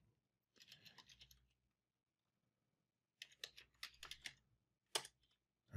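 Keys clatter on a computer keyboard in two quick, quiet bursts of typing separated by a pause, then a single sharp keystroke, in an otherwise silent room.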